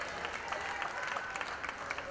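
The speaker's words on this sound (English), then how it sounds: "Let's cheer on Justin too." Crowd at an O Cup bicycle race applauding and cheering for a second-place finisher, a steady wash of clapping and voices with no single clap standing out.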